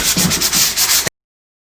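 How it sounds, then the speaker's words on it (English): Close, loud 180-grit sandpaper rubbing across wood in a quick series of back-and-forth strokes that stops abruptly. "I'm using 180 sandpaper, just sanding it down a little bit."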